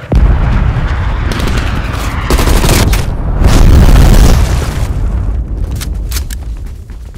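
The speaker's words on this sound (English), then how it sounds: "Cruise missile inbound." A cruise missile strike in a video game lands as a long, heavy rumbling boom of explosions, loud and sustained with rolling blasts over several seconds.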